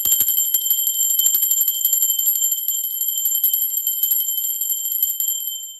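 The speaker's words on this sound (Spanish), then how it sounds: "va campana." A small hand bell is rung rapidly and continuously during a tarot reading, its bright, high metallic tone sustained by quick repeated strikes, close and clear before fading at the end.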